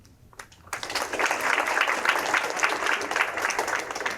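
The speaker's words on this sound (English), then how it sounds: "That clapping just wasn't doing it justice." Clapping from the audience at a student invention showcase, rising quickly after a short quiet start into a steady, moderately loud spread of many hands that continues to the end.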